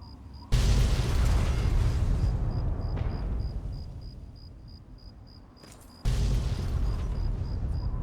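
Heavy gunfire and booming blasts in Fallout 3 arrive as two loud, sustained bursts with a fading rumble between them, under a repeating faint electronic beep, and nobody speaks.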